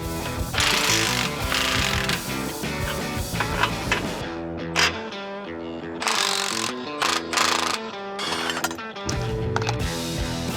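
A ratchet works U-bolts loose from the rear axle leaf springs on a rust-free Ford Explorer, giving rapid clicking bursts that stop and start, with metallic clanks between them and someone speaking at times.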